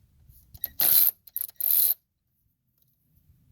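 Ratchet wrench loosening alternator bolts on a C5 Corvette engine, heard as two loud bursts of rapid clicking close by, with softer tool clinks around them and quiet after.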